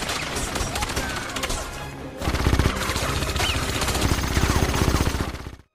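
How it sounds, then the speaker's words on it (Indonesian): Rapid gunfire from a shootout in a James Bond film, dense overlapping automatic bursts and single shots rattling loudly and continuously, growing heavier and more rhythmic partway through before cutting off abruptly. "sehingga baku tembak pun terjadi"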